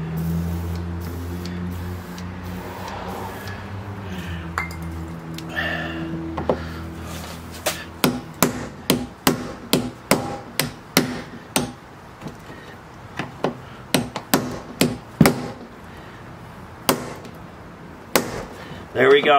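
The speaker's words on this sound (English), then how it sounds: "I'm hammering so much it's moving" Sharp metallic hammer strikes on a stuck metal ring of a 2005-2010 Jeep Grand Cherokee's rear control arm ring out in a rapid, uneven series, preceded by a low droning hum and some faint voice.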